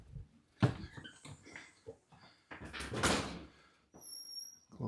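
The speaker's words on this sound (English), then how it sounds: "Close up the door." A door of a house is pulled shut amid a few knocks and shuffling handling noises, with a squeak near the end; the sounds come in short, moderately close bursts.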